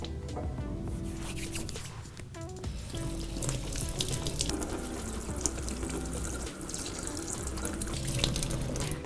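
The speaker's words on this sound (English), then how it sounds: "I start by washing my hands." Tap water runs steadily into a sink while hands are washed under it, splashing and rubbing close by with slight changes in the flow.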